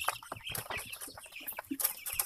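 Chicks cluck and chirp in a busy, overlapping chorus, close by, with small scratchy movements in between; no one speaks.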